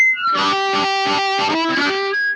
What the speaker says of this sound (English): if you turn your gain up way too high, it's going to sound really harsh.